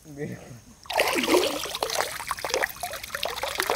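Water splashing and sloshing nearby at a fishing spot in Konkan, with irregular bursts of spray starting suddenly after a brief moment of someone speaking.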